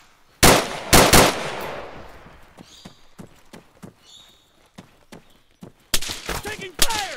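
Gunfire erupts in ArmA 3: a few loud, close bursts open, then scattered distant shots crack irregularly before another heavy, near volley closes out, with faint whistling between bursts.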